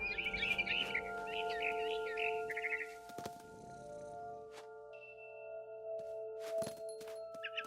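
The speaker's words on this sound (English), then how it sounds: "Then I heard chirping outside my window." Bright, rapid bird chirps trill at the start over a steady electronic hum in the game What Remains of Edith Finch, then fade, leaving sparse clicks and a thin tone.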